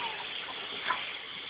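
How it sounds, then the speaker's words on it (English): Bare feet splash in water filling a sink, giving a continuous wet gushing and sloshing wash with one slightly louder splash midway, close by and without talk. "Look at them splashing around."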